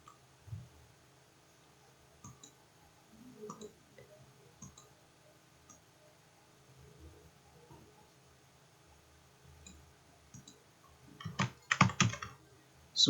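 Scattered keyboard taps, quiet and close, with a brief flurry of louder clicking near the end.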